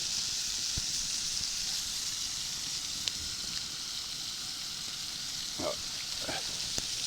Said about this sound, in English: So threw the first batch of bacon and the grease into the rice.